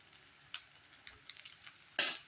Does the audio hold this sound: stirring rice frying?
yes